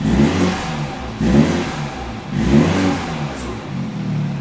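A 1.5-litre four-cylinder turbo petrol car engine revs repeatedly in a workshop, with three or four strong low surges rising and falling at a steady pace, loud and close.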